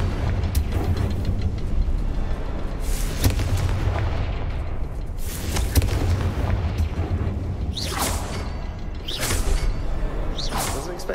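A Confringo fire spell explodes in Hogwarts Legacy, with booming blasts and whooshing bursts repeating over a steady loud rumble of combat for several seconds.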